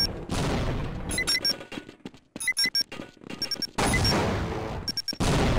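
Grenades go off in a video game amid a chaotic firefight: heavy booming blasts and dense gunfire bursts cut in and out, with sharp beeping alerts layered over the loud, crowded mix.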